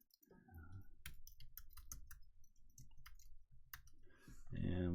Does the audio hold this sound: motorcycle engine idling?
no